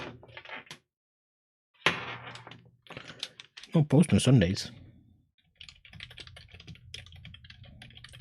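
Keys clatter on a computer keyboard being set up to work on an old laptop, a burst of rapid clicks between short pauses, close by, with a person talking before and around it.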